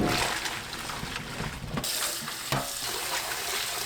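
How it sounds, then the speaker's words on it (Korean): Blanched spinach rinsed under cold running water in a sink, a steady close splashing and trickling stream with a brief shift in flow partway through. "(30초) 데치고 바로 꺼냅니다. 찬물에 헹궈주세요."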